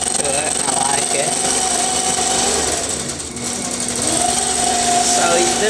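A 2013 Millie longarm quilting machine stitching an allover feather pattern on a quilt, a loud, steady, fast mechanical hum and rattle that runs continuously right up close.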